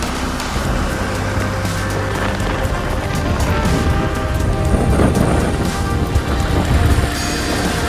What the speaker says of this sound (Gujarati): હાલો હવે વરસાદ ચાલુ હોય ધીમા ધીમા નીકળી ગયા હાલી